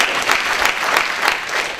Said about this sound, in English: Give Harry a hand